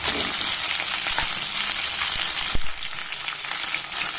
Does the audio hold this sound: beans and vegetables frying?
yes